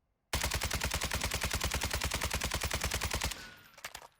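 Rapid automatic fire from a suppressed weapon fitted with a Kostovia suppressor in Warzone 2.0, a fast unbroken string of dozens of loud, evenly spaced thuds for about three seconds, ending in a brief clatter and fading tail.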